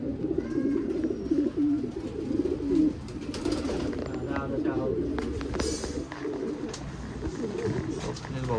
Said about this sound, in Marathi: भाऊचा आवडता पक्षी.